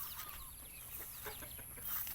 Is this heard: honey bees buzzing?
no